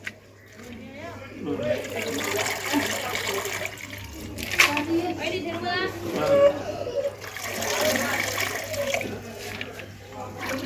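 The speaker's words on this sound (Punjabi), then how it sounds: "ਫੇਰ ਪਾਣੀ ਪਾ ਕੇ ਫੇਰ ਧੋਣਾ ਹੈ ਇੱਕ ਦਫਾ ਹੋਰ" Water sloshes and splashes in a basin as greens are swished and rinsed by hand, with people talking over it nearby.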